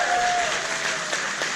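Audience applause at a show, a brief burst of dense, sustained clapping from a crowd, loud and steady throughout.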